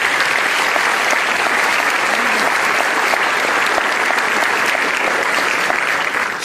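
Loud, steady applause from a large audience at a high school graduation ceremony, a dense unbroken roar of clapping that holds evenly from start to finish.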